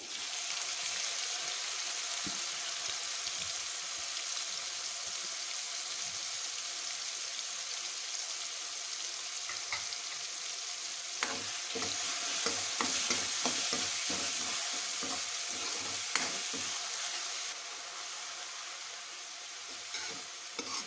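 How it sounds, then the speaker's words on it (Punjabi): Two finely chopped onions frying with garlic in a pan for an aloo baingan curry, a steady close sizzle and hiss throughout, with a cluster of sharper spatula clicks and stirring scrapes in the middle. "ਪਿਆਜ਼ ਨੂੰ ਹੁਣ ਅਸੀਂ ਵਧੀਆ ਤਰ੍ਹਾਂ ਫਰਾਈ ਕਰ ਲਾਂਗੇ"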